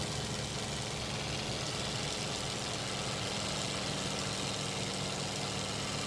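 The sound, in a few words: TBM Avenger aircraft engine, throttle advanced for takeoff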